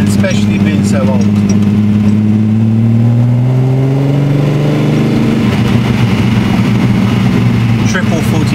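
A 1972 Datsun 240Z rally car's engine with triple 45 Weber carburetors, built to about 250 horsepower, revving loudly up and down up close, with its pitch rising and then falling over the rumble.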